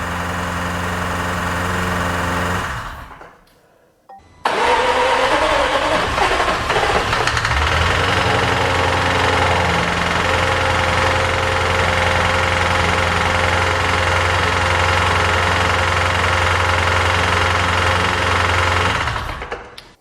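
A Jaguar F-Type SVR, a non-runner, runs rough with a lumpy, knocking idle, loud and close, cuts out briefly, then restarts and keeps idling unevenly until it stops.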